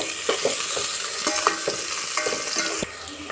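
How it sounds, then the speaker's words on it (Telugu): Onions with asafoetida frying in a pan for hotel-style sambar, a steady close sizzle broken by scraping stirs of a spoon. "ఈ కొద్దిగా ఉల్లిపాయ వేగనియండి. కొద్దిగా ఇంగు వేసుకున్నాము."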